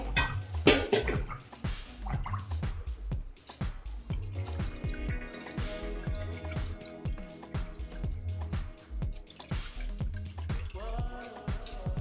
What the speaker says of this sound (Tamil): நல்லா வடக்கட்டிக்கோ ஃபில் பண்ணிக்கோங்க.